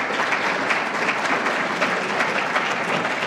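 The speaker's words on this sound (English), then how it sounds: "let's give a round of applause for Brian" An audience at a school's alumni awards ceremony applauds recipient Brian, given the award for exemplary service, with sustained, dense clapping at a moderate, even level throughout.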